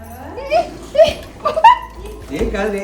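Dog greeted at a family home in the Godavari region during Bhogi, letting out a few short whimpering yips close by, mixed in with people talking and greeting it.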